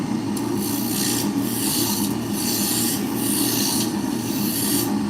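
A roughing gouge cuts into spinning wood on a lathe while a drop spindle is turned, giving a loud, continuous rasping scrape that swells and eases in regular waves close up.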